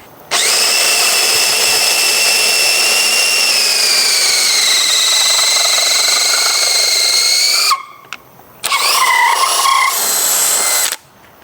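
A DeWALT DCD1007 hammer drill-driver runs loud and close in one long sustained whine with a steady pitch, cuts out briefly, then spins up again for a shorter second burst.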